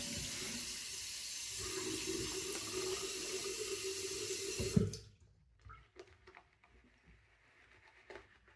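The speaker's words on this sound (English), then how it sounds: "A little bit more water." Tap water runs steadily into a sink during a straight-razor shave, a loud rushing stream that cuts off abruptly midway, leaving quiet room sound with small clinks afterward.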